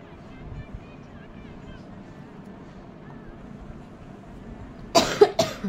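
A person coughs several times in a quick loud burst near the end, after a stretch of quiet background noise with faint murmuring, indoors on a rainy day.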